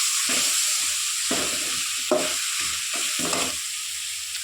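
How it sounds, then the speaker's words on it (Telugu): A spice mixture for banana curry fries in a pan with a bright constant sizzle, while a spoon scrapes and stirs in short bursts, close and fairly loud, with no talk. "ఇప్పుడు దీన్ని మిక్స్ చేసిన తర్వాత పచ్చి వాసన లేకుండా ఫ్రై చేసుకోవచ్చు"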